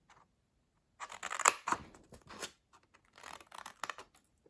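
Scissors snipping through tote bag fabric, a handful of close, crisp cuts in uneven bursts separated by short pauses, with no talking.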